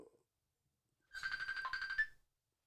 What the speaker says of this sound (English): That's my other phone.